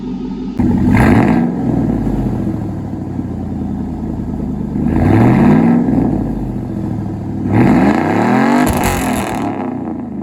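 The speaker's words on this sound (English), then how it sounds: "I'm gonna do a couple revs because I know you guys like it." A 2001 Chevrolet Silverado pickup engine revs loudly three times in strong surges, each rising and falling back to a rumbling idle, with no voices.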